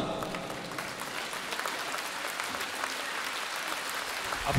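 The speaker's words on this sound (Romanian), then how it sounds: "Aplauze." Concert audience in Chișinău applauding after a pop-symphonic show, a continuous wash of clapping heard from a distance in a large hall, even and moderately loud, swelling slightly at the end.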